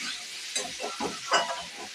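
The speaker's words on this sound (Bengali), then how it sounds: "এইভাবে আমি একটু নাড়ি চাড়িয়ে ভেজে নেব।" Food stirred and fried in a pan for a vegetarian festive thali, a brief close sizzle with a few quick scraping strokes of a spoon, no voices.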